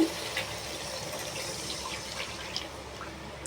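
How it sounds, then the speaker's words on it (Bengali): Water pours into a pot of potatoes cooking in a spicy red masala gravy, giving a steady, moderate splashing and gurgling that runs throughout without any voices. "আলুটা সেদ্ধ হওয়ার মতো জল এখন দিলাম"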